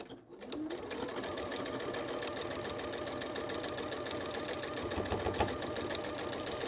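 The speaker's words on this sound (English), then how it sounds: "I'm going to sew straight across there. I'm sewing the two in together" A sewing machine hums steadily close by, stitching crazy patchwork pieces straight across in one continuous run with a rapid needle patter throughout.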